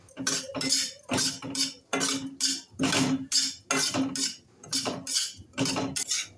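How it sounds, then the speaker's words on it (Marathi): Semolina (rava) is dry-roasted with a little ghee in a pan for rava besan ladoo. A utensil scrapes and clinks against the metal in a steady back-and-forth rhythm, close and fairly loud. "त्याच्यामध्ये 1 कप रवा घालूया आणि एकदम खरपूस भाजून घेऊया।"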